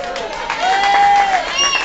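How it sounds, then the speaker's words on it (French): A French audience applauds for the singer, a steady wash of clapping and crowd noise with a sustained voice-like tone running through the middle. "Je vous demande d'applaudir, mesdames et messieurs"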